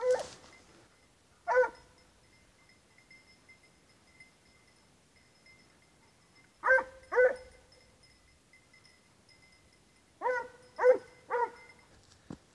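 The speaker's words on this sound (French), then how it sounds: "Le chien qui arrive derrière." Several bursts of barking from a hunting dog during a fox drive in the Minervois countryside, in clustered pairs and triplets with quiet gaps between, moderately distant and carrying across open ground with no talk over it.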